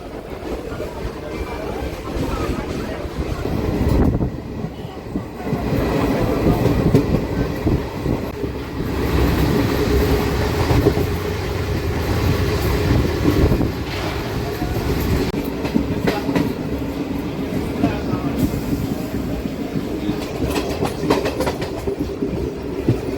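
A DEMU train runs on rails between Nandyala and Kurnool, with a steady loud rumble and rhythmic clatter of wheels over rail joints heard from on board throughout.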